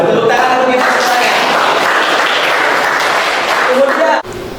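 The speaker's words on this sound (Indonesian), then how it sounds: "Tepuk tangan untuk kita semuanya" A group of teacher-training participants gives a round of applause for everyone. The clapping is a sustained, close, broadband patter that stops abruptly near the end, with a voice speaking over it.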